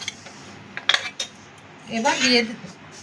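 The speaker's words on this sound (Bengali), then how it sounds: "মাংসটাকে একটু ওপর নিচ করে দিচ্ছি, আলুগুলো যেহেতু নিচে একটু ওপর নিচ করে দিলাম।" A metal spoon clatters and scrapes against a cooking pot while mutton and potatoes are turned over, a few sharp close knocks followed by a longer scraping stir.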